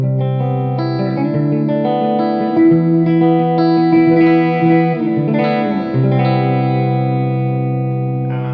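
Electric guitar played through a Positive Grid Spark 40 practice amp on its Orange amp model, sustained distorted chords ringing with reverb and shifting every second or so, loud and steady with no talking.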